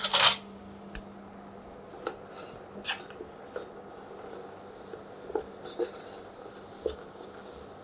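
A metal spoon stirs melting, caramelizing sugar in a pan for pistachio praline, giving irregular light clinks and scrapes against the metal. The first contact is louder, and the sounds are close up with no talk.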